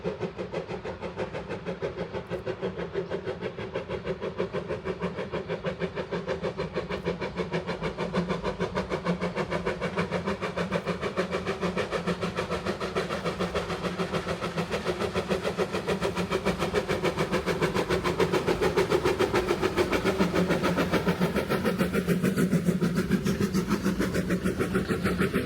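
An NA class steam locomotive labors up Fielder Bank, a 3.3% grade four miles long, its rapid rhythmic chuffing loud and continuous over a steady mechanical roar that builds slightly as it passes.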